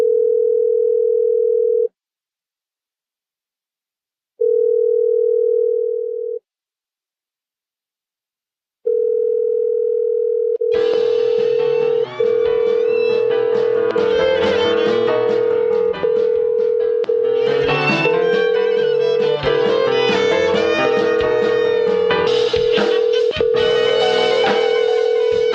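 A telephone dial tone for a call-in to a radio show: a loud, steady hum cut off twice by short silences, then held continuously while music fades in underneath and plays alongside it.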